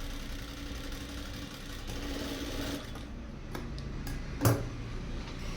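A sewing machine stitches along a blouse neckline while making a collar, running with a steady fast mechanical whir and ticking, close and moderately quiet, with a short knock near the end.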